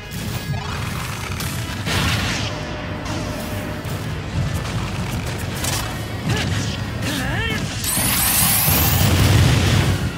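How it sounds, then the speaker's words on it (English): Big bomb exploding in Super Smash Bros. Ultimate, loud crashing game blasts and whooshes amid busy gameplay sound effects, with a player's voice reacting excitedly over the action. "That's a big bomb."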